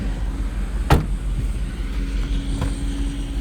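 A 2024 Jeep Wrangler 392 with its V8 holds a low, steady rumble close by as it sets off for a drive, broken by one sharp thunk near the start and a fainter click later.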